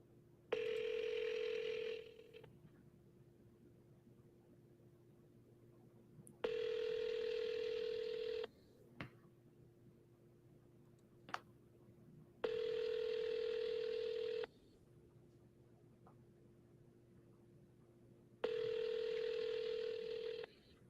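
Cell phone call ringing out, with a repeating ringback tone in long bursts about every six seconds and quiet gaps between, heard faintly over a phone line.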